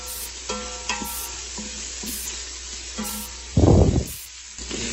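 Onions sizzling and sauteing in an Instant Pot for collard greens, a steady frying hiss broken by scraping stirs and a louder burst of sizzle partway through, close up.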